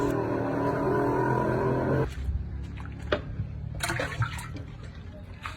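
Water splashes and pours steadily for about two seconds, then stops, followed by scattered clinks, drips and light handling noises at close range in a quiet setting.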